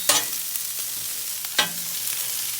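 Vegetables for beef lo mein sizzle and fry on a 22-inch Blackstone griddle, a constant hiss broken by two sharp scraping stirs of a spatula, close and without talk.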